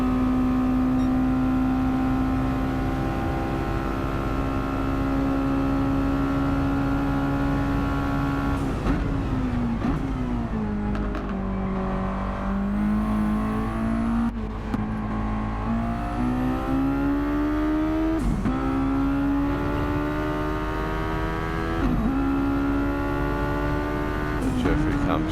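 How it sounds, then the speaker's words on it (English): Mazda Roadster engine in Gran Turismo 7 racing at Bathurst, loud and steady, climbing through the revs and dropping abruptly at each early gear change, several shifts in a row, with commentary talking over it. "Money Man's doing some very short shifting here."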